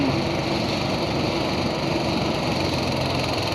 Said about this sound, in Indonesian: mesin perontok padi yang masih baru